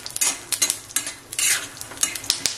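Garlic fries in hot oil for peanut chutney, a bright, loud sizzle that swells in bursts as it is stirred, with occasional scrapes of a utensil against the pan.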